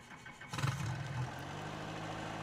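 A Bell 47G helicopter's six-cylinder piston engine cranks and fires up in a flight simulator game, starting with a brief burst, then settling into a steady, close, low idling drone with no talk over it.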